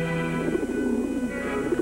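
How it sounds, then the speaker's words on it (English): Young racing pigeons in a cage before a race, cooing softly in overlapping throaty murmurs, close and continuous under a faint background hum. "Nervously, the young birds refreshed themselves for the grueling flight ahead."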